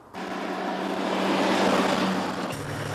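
Runaway truck without brakes speeding downhill, a loud, steady engine and road roar that starts abruptly and builds, then eases slightly toward the end, dramatized in a rescue reenactment.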